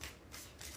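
Tarot cards riffled in a bridge shuffle, giving two quick rustling bursts a fraction of a second apart, close and moderately loud with no talking.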